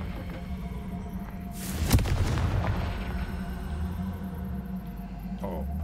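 A Confringo fire spell explodes in the Hogwarts Legacy video game: a single loud, broad blast near the start that rolls into a rumbling decay over steady low game ambience.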